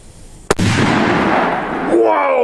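A Polenböller firecracker goes off with one sharp, loud bang, and a noisy rumbling wash trails after it. A voice is heard near the end.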